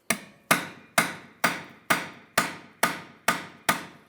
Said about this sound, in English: And just hammer on this.